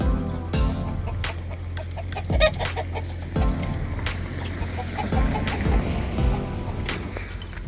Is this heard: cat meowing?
no